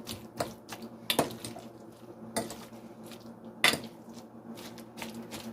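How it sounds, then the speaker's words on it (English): A fork mixes and mashes guacamole in a bowl, giving soft squishy scrapes and sharp clicks of metal against the dish in an irregular rhythm, close and fairly quiet, with no talking. "I can actually use a fork to mix it."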